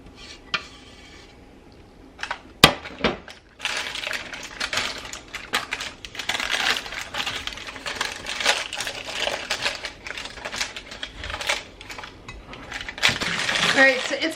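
Sugar-free fudge is cut into pieces in its pan, with irregular clicking taps and scraping knocks of the blade against the tin, plus a voice speaking quietly now and then.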